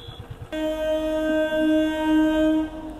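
A train rolls past a railway level crossing on a road near the India–Nepal border, its horn blaring in a long steady tone that starts abruptly and holds for about two seconds over the low rumble of the cars.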